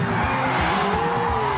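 A car brakes hard with a continuous tire squeal, steady and loud throughout with engine rumble beneath, no voices during the sound.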